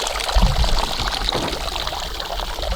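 Liquid pours and trickles from an arrow wound in a ballistics gel target during a broadhead test, a close, steady splashing stream with a heavier gush near the start.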